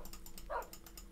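Minecraft puppies in a modded game, a quick series of faint, high, soft yips and barks with one louder bark in the middle, lasting about a second.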